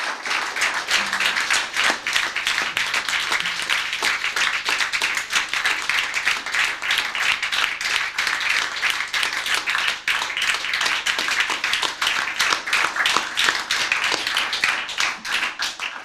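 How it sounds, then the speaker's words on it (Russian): Audience at a poetry and literary evening clapping steadily, a dense, even wash of applause that holds for the whole stretch without letting up. "Давайте ему похлопаем"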